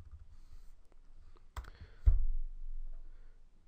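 Computer keyboard keys and mouse clicks sound at an office desk during data entry in Microsoft Dynamics C5: a few sparse, close taps followed by a sharper click and a soft thump.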